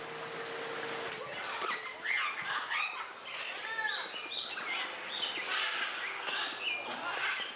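Jungle birds call in the tropical forest of Iguazu National Park, Argentina: a busy mix of whistled, arching notes and chirps that overlap and repeat over a steady hiss of insects and water.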